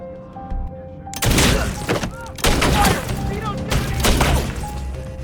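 Several loud, sharp bursts of gunfire crack out in quick clusters outside a house over a low background hum, each blast ringing briefly before the next.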